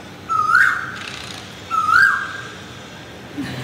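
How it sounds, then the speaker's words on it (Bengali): A cuckoo calls outdoors in the morning with two clear, rising whistled notes about a second and a half apart, fairly close and loud over quiet background hiss, with a faint third sound at the end. "আর পিছনে একটু শুনতেই পাচ্ছ কোকিলের মিষ্টি ডাক।"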